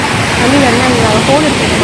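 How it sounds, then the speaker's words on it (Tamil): Water pours from a lake down a drainage channel in Chennai, a loud, steady broadband rush like a small waterfall, with a faint voice underneath. "ஆனால் சத்தம் பார்த்தீங்கன்னா தெரியும் கிட்டத்தட்ட ஆல்மோஸ்ட் ஃபால்ஸ் மாதிரியே இருக்குது"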